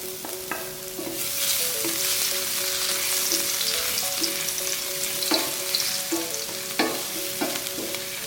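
Garlic sizzles in olive oil in a frying pan, a steady close crackle and hiss with occasional sharper clinks of stirring on top.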